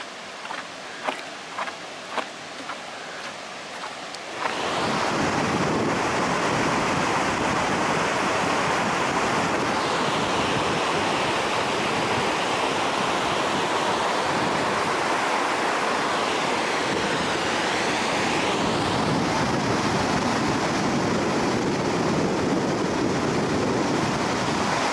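Rushing river rapids at Hiitolanjoki roar in a loud, steady wash of whitewater that begins abruptly after a few seconds of quieter footsteps, then holds a continuous, full-bodied rush close by with no voices.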